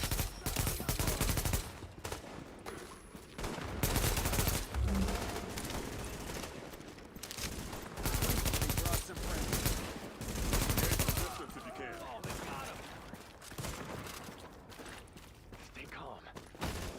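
Heavy gunfire rattles through a patrol firefight in The Division video game, with repeated loud bursts of automatic shots and brief lulls between them, plus mechanical clatter and occasional voices underneath.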